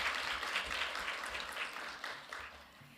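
Applause from an audience at a governance forum, faint and fairly distant, a steady patter of clapping that gradually fades.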